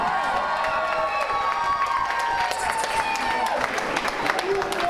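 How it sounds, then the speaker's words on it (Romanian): Wedding guests cheer, shout and applaud loudly as a crowd, a continuous dense roar of clapping and voices with music-like tones underneath throughout. "Acum vreau și eu cea mai tare gălăgie și aplauze furtunoase!"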